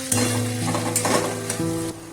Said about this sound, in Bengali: একটু ভালো করে নাড়াচাড়া করে নিয়ে দিয়ে দিতে হবে সরু করে কেটে রাখা আলু আর গাজর